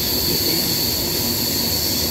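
Howrah to Ranchi Kriya Yoga Express running at night, a steady loud roar of wheels on rails with a continuous high metallic whine, close by, no voices.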